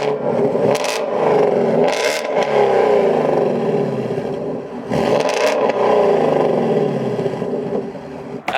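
A Shelby GT350 Mustang V8 revs loudly and close up, its roar rising and falling through repeated throttle blips.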